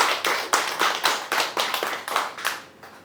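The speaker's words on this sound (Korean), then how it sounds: "여러분 큰 박수로 환영해 주시기 바랍니다" Steady rhythmic clapping from a small audience at a panel discussion, evenly paced claps at close range with no voices over it.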